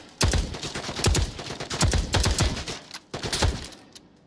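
Gunfire from a heavy-recoil gun in the VR shooter Tactical Assault VR, loud close bursts of rapid automatic shots in three runs with short pauses between them.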